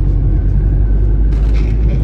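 A car engine rumbles loud and close, a deep steady drone with a brief brighter rush of noise near the end.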